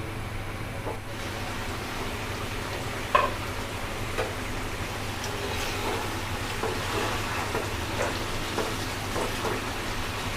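Pabda fish frying in a pan while being stirred, a continuous low sizzle with soft scraping and a sharp clink of a utensil against the pan, no speech.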